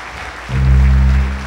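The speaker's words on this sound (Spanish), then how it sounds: "¡Fuerte ese aplauso!" Audience applause for a symphony orchestra at a concert, a broad wash of clapping that swells louder halfway through, joined by a sustained low tonal hum.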